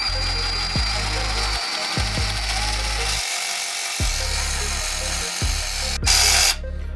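Cordless reciprocating saw from a GRAND kit running unloaded at varying trigger speeds, a loud close motor whine that repeatedly starts, stops and ramps up and down in short bursts.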